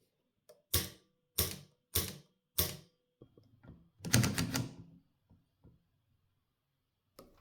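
Vintage 1920 Typo model B typewriter with a curved body clacking through four sharp, evenly spaced keystrokes, then a denser burst of mechanical rattling and a few faint ticks, close and alone.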